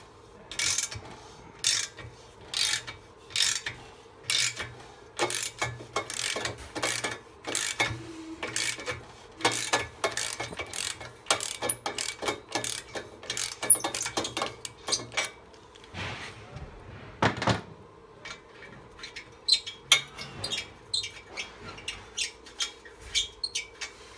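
A nut on a metal assembly being turned loose with a ratchet wrench after induction heating, producing a long run of rapid, close mechanical clicks in steady bursts, with no speech.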